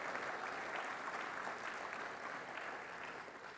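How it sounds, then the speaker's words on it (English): An audience claps together after a patriotic line in a talk, a steady rush of applause that fills the room and begins to fade slightly near the end. "You can clap for America."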